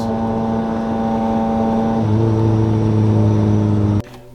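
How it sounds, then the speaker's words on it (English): A Toyota Corolla engine with a slipping clutch holds a loud, steady high rev, its droning tone stepping to a different pitch partway through, then cutting off abruptly near the end. "as soon as I rev it, it slips"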